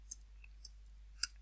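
Three sharp, isolated keyboard clicks come at uneven intervals as a value is typed into a box, close and crisp against a low steady hum.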